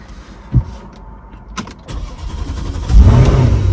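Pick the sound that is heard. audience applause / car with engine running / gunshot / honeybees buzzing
car with engine running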